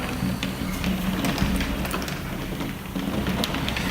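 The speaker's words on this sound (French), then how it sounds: "une averse comme ça" Steady rain patters down, a soft continuous hiss with scattered drops tapping nearby surfaces.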